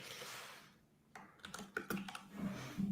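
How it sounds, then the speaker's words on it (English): Computer keyboard typing, a quick irregular run of soft key clicks at close range, quiet and alone with no talk, as someone looks something up online. "But I can hear bitluni typing, looking up Wikipedia"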